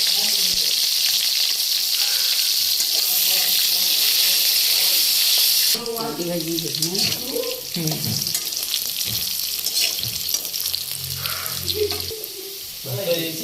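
Potatoes sizzle in hot oil over tempered spices for an Odia mustard prawn curry, a loud steady hiss that later turns to stirring and scraping in the pan while a voice talks.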